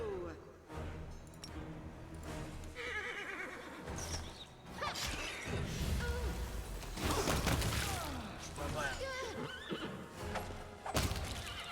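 A horse whinnies loudly several times amid clattering hooves and scattered crashes and whooshes, busy and close throughout.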